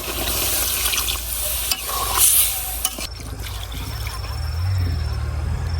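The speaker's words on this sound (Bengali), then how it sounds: "ফুলকপি আর আলুটা কিন্তু এই যে মোটামুটি সেদ্ধ হয়ে গেছে এখন দিয়ে দিতেছি ঝোল" Broth poured into a pan of cauliflower and potatoes for a thin tilapia and tomato curry, a loud sizzling, bubbling wash that swells briefly midway and then settles into a steady simmer.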